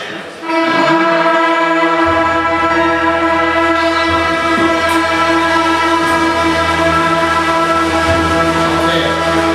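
School band instruments at an elementary-school playathon hold one loud sustained note together, a thick steady chord that swells in after a brief start and rings on without a break.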